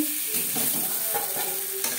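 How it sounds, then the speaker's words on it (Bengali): Boiled new potatoes fry with salt and turmeric in a kadai, a close, busy sizzle broken by quick stirring scrapes of the spoon. "লবণ হলুদ দিয়ে ভেজে নিলাম।"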